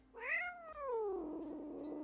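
A pet cat lets out a single drawn-out meow that rises and then trails off into a softer, wavering tail, close by in a quiet room.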